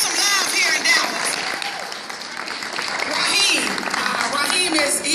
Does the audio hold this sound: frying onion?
no